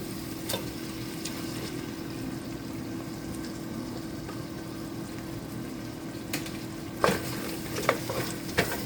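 Plum tomatoes go into a pan of frying sauce for chicken with peanut sauce, a steady low sizzle running throughout with a few sharp spoon clicks and scrapes from stirring near the end.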